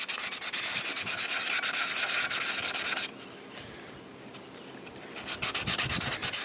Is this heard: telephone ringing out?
no